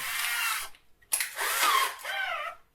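A hand drill with a 20mm Forstner bit bores into a wooden engine block for a toy train, two loud whining bursts of cutting separated by a short pause.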